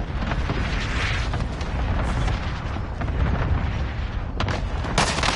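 Cluster strike explosions in a Call of Duty battle, a dense, continuous rumble of booms and blasts with sharper bursts near the end, loud and overwhelming.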